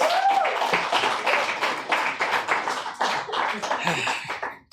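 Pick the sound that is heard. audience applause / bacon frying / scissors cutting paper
audience applause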